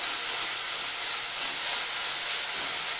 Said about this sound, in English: now we're sauteing these ingredients together